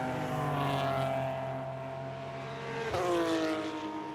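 BMW race car on track at turn 1 of Road Atlanta during an endurance race, its engine note sweeping past loudly with harmonic whine and a sharp crackle near the three-second mark, no talk.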